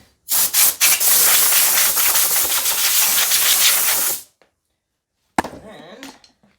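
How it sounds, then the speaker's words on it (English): Compressed air blows off a 5.3-liter LS engine being prepped for paint for a 1990 Chevy S10 4x4 in a loud, close hissing blast for about four seconds, then silence, then a shorter burst. "Shoot it off with some compressed air a little bit."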